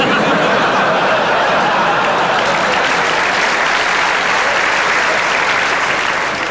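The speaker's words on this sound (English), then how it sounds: "I don't like clapping." A theatre audience at a comedy stage show applauds, dense steady clapping with scattered laughter and chuckles running throughout.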